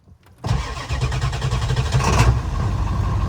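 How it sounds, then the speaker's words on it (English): A Ford Powerstroke diesel truck engine cranks and fires up on a chilly day, catching after a brief crank and settling into a loud, rough, clattering idle close by. "Let's hear this thing fire up."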